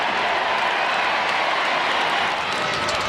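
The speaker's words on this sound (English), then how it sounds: "And don't the crowd love it." Football crowd cheering and applauding a goal from a free kick, a loud, continuous roar filling the stadium without a break for the whole stretch.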